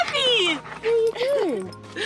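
A dog whimpers and yips in a run of high, sliding whines and short yelps. The cries are close and fairly loud, and they rise and fall in pitch over about two seconds.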